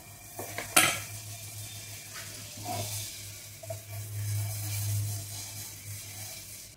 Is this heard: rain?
no